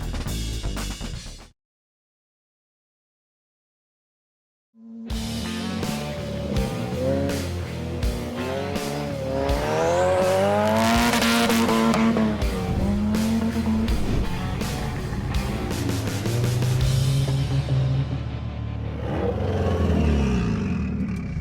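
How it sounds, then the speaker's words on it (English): A Honda Civic rally car runs on a dirt off-road track in Alabama, its engine revving loudly and climbing through gears after a brief silence, with rising and falling pitch and gritty, skidding texture. "We take our Honda to the track and start slinging some dirt."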